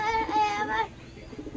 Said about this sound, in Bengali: এই দেখো কি বলতো এটা ঘুঘু পাখি